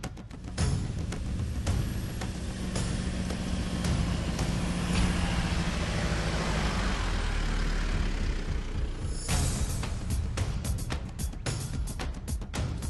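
A Mitsubishi Pajero 3.2 Di-D SWB drives across sand dunes, its diesel engine a steady loud rumble under rushing noise for most of the stretch, then a run of sharp knocks and thumps near the end.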